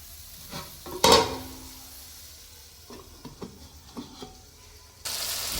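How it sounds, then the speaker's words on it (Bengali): Vegetables with spices cook in a pan with a light, close sizzle under sparse stirring knocks and one loud clatter near the start. A burst of hissing returns at the end. "সমস্ত সবজি মশলার সাথে নেড়ে ভালোভাবে মিশিয়ে দেব এবং কিছুক্ষণ ঢেকে রেখে দেব"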